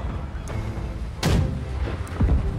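Cannons fire in the naval battle game Black Wake, heavy booming blasts landing twice in close succession over a steady background rumble of ship and sea ambience, with fainter shots between.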